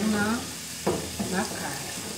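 Garlic sizzles and browns in a pan while meat is being seared for a pot-roasted pork leg, with a steady close frying hiss and brief stirring scrapes, and a voice murmurs briefly partway through.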